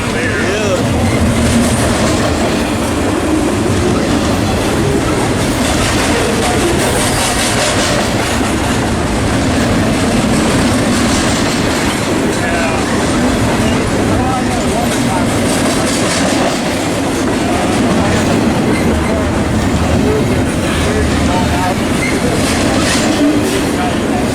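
Westbound freight train passing close by in a loud, continuous rumble with rhythmic clickety-clack of wheels on rail joints and faint squealing, steady from start to finish, with speech at times over it.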